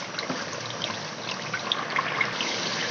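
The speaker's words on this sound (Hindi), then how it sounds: "ये मैंने पानी इसमें ऐड कर दिया" Water is poured into a pot of beef nihari as a steady, even trickle and splash that runs throughout at moderate volume, close by and alone without speech.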